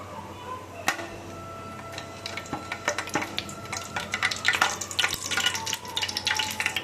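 Spices sauté in a hot pan for kalan dum biryani. A steady sizzle runs throughout, with scattered crackles and stirring clicks getting busier toward the end.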